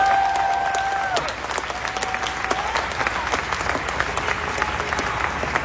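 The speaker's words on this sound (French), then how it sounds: "Alors les gens applaudissent parce qu'elle a fait quelque chose de bien" An audience applauds steadily throughout, a dense wash of clapping that stays fairly even, with a faint tone fading in the background early on.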